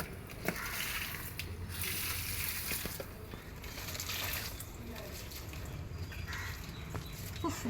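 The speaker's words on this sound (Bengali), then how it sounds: "সব গাছের গোড়ায় জল দিয়ে দিয়েছি।" Water poured onto the base of garden plants: a continuous splashing, gushing wash of water, close and fairly loud, with small irregular splatters throughout.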